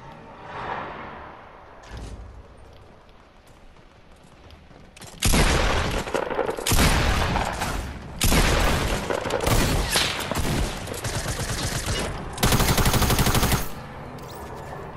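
Bursts of automatic gunfire and shots in the battle royale game H1Z1 or Fortnite, loud dense volleys repeating over several seconds with quieter gaps between them.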